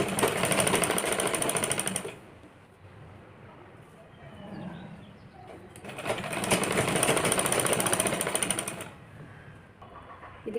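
Sewing machine stitching along the edge of a belt blouse, loud rapid mechanical chatter in two long bursts separated by a quieter pause with faint handling sounds.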